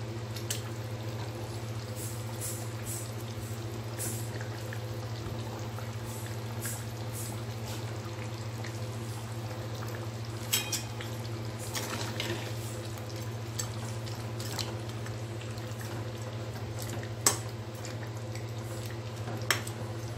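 Fish curry simmers in a pot with a steady low bubbling hum, and soft pops and drips break through now and then. The sound is close, quiet and continuous, with no voices.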